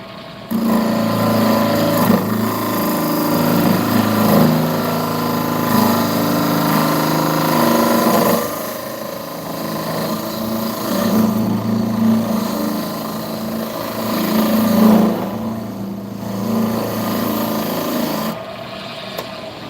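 A skew chisel rasps and scrapes across a spinning piece of wood on a lathe, loud and close, with a continuous grinding rub and a steady motor hum underneath and a brief lull in the middle.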